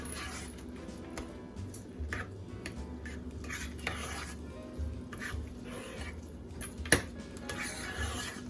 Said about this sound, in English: And then we're going to give it a good stir.